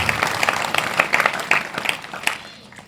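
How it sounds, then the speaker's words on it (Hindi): An audience at a sant's spiritual discourse gathering claps for about three seconds. The applause is dense and steady, then fades slightly toward the end. "एक बार इनके लिए जोरदार ताली बजा करके अभिनंदन।"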